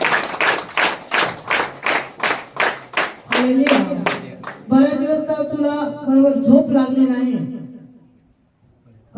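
A group claps in a steady rhythm, about a dozen evenly spaced claps, while a chanting or singing voice carries on over them, then fades into near silence.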